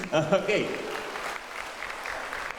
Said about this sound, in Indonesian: Tepuk tangan dong sekali lagi untuk Aloysius.